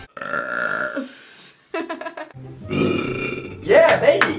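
A woman burps loudly up close several times in a row, with some vocal, voice-like sounds mixed in among the belches.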